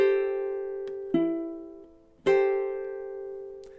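Ukulele finger-picks slow chords, with three gentle plucked attacks that ring out and fade between them, soft and unaccompanied.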